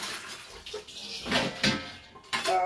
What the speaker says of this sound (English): Put my greens in here, and I'm going to go ahead on and let them soak in a little salt water